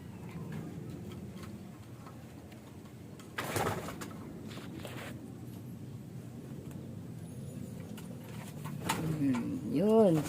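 Pigeons coo during a racing-pigeon training release, a few close, warbling calls rising near the end over steady outdoor background noise and occasional faint voices.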